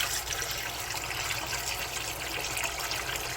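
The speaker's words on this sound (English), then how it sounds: "it also gives me a chance to kind of wash off the rocks and stuff. Give them a good rinse before use." Rocks rinsed under running water before going into an aquarium, a steady close splashing and trickling rush with no talk.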